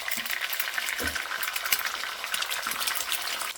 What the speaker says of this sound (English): And I just kind of break through the white just to get it to cook a little bit better.